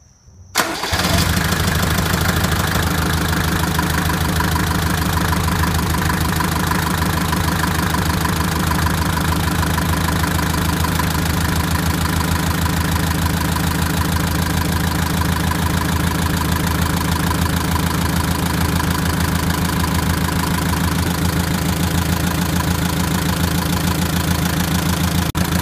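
A Mercedes 190D W201 diesel engine turns over and settles into a loud, steady idle that rumbles on without change, with no talking.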